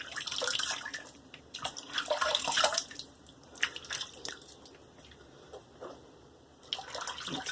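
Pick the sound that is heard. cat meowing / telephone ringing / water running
water running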